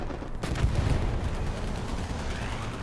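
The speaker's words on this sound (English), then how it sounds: "Strafing run." Aircraft strafing run in the video game Hell Let Loose: a dense, rumbling burst of rapid gunfire and low booms rolls in after a short lull and keeps going steadily and loudly to the end.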